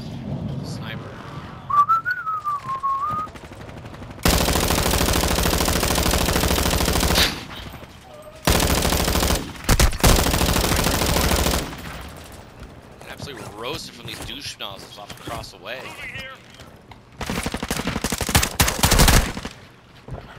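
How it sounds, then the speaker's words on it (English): Enemy gunfire in a multiplayer shooter video game, with loud sustained automatic bursts in several long stretches and whistling shots between them, while players talk over the action. "these guys are all just shooting at us"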